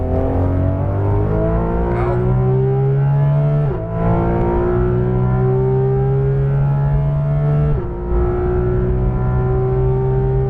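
Porsche 991.2 GT3 RS flat-six on a racetrack, loud and close, with rising harmonic tones under throttle that dip briefly at shifts or lifts around four and eight seconds, then climb again.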